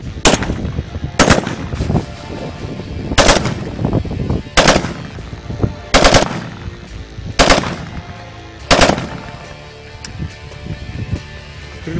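Bursts of automatic weapon fire from a special forces unit ring out loud and close, seven or so sharp volleys spaced roughly every one to one and a half seconds, with no talk between them.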